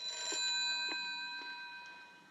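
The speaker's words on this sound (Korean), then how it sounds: "한 통의 전화가 걸려옵니다" A telephone rings with a bright, sustained electronic tone, steady and unbroken, with a few faint knocks underneath and no talking.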